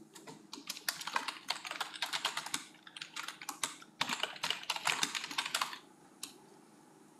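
A file name typed on a computer keyboard, with dense runs of crisp, close key clicks in rapid bursts and short pauses, heard alone without talk.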